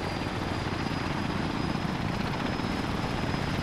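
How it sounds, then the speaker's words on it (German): A helicopter in Altis Life, an Arma 3 game mode, flies close by with a constant loud rotor and engine roar that holds steady throughout, with no talking. "Geh mal hier weg mit deinem kleinen Pubel-Heli."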